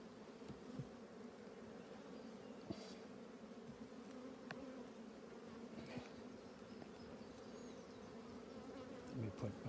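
Honeybees drone steadily around an opened colony during a hive inspection, a constant close hum with brief louder passes of individual bees and faint knocks and clicks, no talking.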